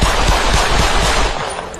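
A gunshot sound effect fires as a loud, rapid burst of cracks that runs for under two seconds, harsh and close.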